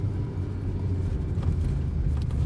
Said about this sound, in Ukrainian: Я даю газу. І вона просто в буксі.